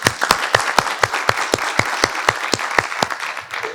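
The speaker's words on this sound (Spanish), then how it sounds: "Bueno, un aplauso." An audience applauds in a room, a lively burst of many hands clapping close and loud for a few seconds.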